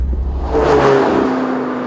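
A 2020 McLaren 720S Spider pulls away and accelerates, its engine rising into a loud, close revving whir that rises in pitch and then holds steady, with no talk.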